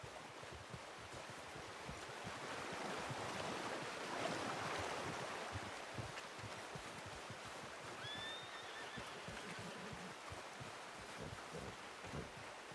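A horse whinnies in Red Dead Redemption 2 during a hunting outing, the call rising faintly around the eighth second over a steady wash of outdoor ambience and rustling.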